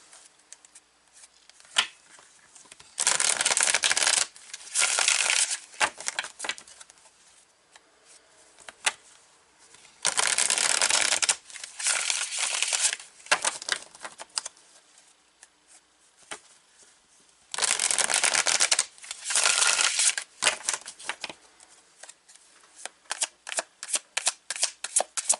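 Tarot cards shuffled in several loud riffling bursts separated by quieter handling and tapping of the deck, close and with no voices.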